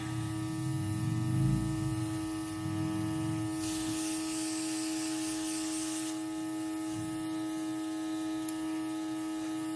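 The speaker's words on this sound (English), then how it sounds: "Needing to clean my airbrush" An airbrush sprays food coloring through a stencil onto cookies, a soft airy hiss that swells in the middle of the clip over a constant electrical hum from the compressor, with low rumbles early on.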